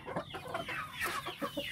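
Local Bangkok-breed chickens, hens kept as breeding stock on a Gorontalo farm, cluck in a quick run of short, close calls with no talk over them.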